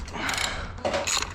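A hand ratchet tightens bolts on a car bucket seat in a Toyota Altezza, giving a short burst of fast clicking, a brief pause, then another close clicking stroke.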